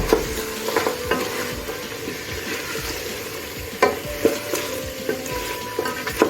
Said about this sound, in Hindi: तमाम मसाले इसमें अच्छी तरह से फ्राई हो चुके हैं।